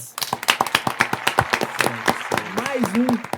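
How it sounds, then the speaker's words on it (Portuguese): A church congregation at a podcast taping claps in a quick run of sharp hand claps, close and fairly loud, with someone talking over them and voices rising near the end. "eu quero palmas!"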